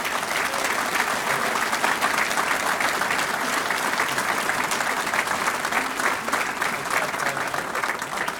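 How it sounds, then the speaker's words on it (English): A large audience gives sustained applause for the Boston Fire Department chaplain, a priest, at a 2017 fire department graduation. The clapping stays dense and steady throughout, with no voices rising above it. "a round of applause, yeah, for sure."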